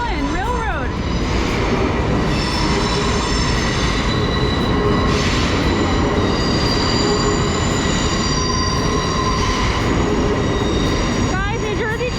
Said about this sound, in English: Oh, something is leaving. Oh my god. What? That's cool. It's the Long Island Railroad.